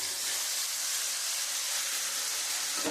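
Poppy seed, rice seed and cashew paste sizzles steadily in hot mustard-style fish-frying oil, a constant bright hiss close by with no talk over it.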